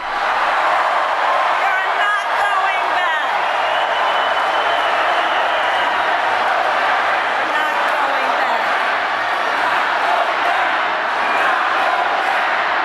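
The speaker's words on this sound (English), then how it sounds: "Just take a look at this massive crowd chanting, "We're not going back" in Las Vegas" A massive political rally crowd in Las Vegas, Nevada, chanting together in a dense, continuous roar that stays loud and sustained throughout, with cheering and a rhythmic pulse from the chant.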